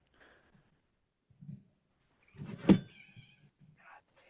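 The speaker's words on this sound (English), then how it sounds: "We have a no. cat who just got tied up in my headphone cord." A cat caught up in a headphone cord lets out a single short, sharp cry with a soft thump, close by, set between scattered quiet rustles in an otherwise still room.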